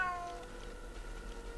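A cat meows in the Aliens vs Predator video game, one drawn-out cry set against a low steady in-game hum, with no talking.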